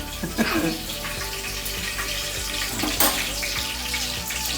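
Cumin seeds and curry leaves hit hot oil for chutney and crackle and sizzle in a busy, close spatter, with a few sharp pops and a voice speaking over the frying.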